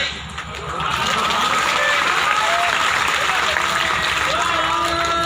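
An audience at a religious sermon (pravachan) in Palanpur bursts into sustained clapping that starts after a brief pause and holds at a steady, dense, loud level.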